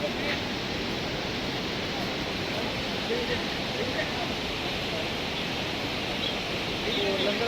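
Natural hot spring water flowing near a gurudwara around Manali and Kasol, a continuous dense rushing wash of water, close and steady with no breaks.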